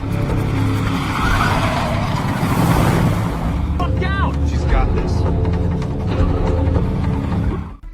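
A car pushed hard during a chase, engine roaring loud and close with tire squeal and rushing road noise throughout, voices briefly audible over the din.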